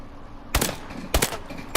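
An ASM1 rifle in Call of Duty Advanced Warfare fires at long range, three sharp, loud separate shots spaced about half a second apart, with nothing else in between.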